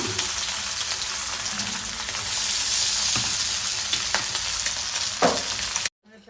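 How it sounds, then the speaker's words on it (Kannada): Fish shallow-frying in a little oil on a tawa gives a loud, dense, close sizzle throughout, with occasional spatula taps before it cuts off abruptly at the end. "ಸ್ವಲ್ಪ ಎಣ್ಣೆ ಹಾಕ್ಕೊಂಡಿದ್ದೀನಿ, ಫ್ರೈ ಹಾಕ್ಕೊತಾ ಇದ್ದೀನಿ."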